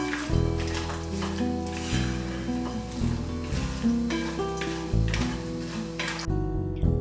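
Cashews deep frying in a pan of hot oil give a steady, continuous sizzle and crackle, with background music playing throughout.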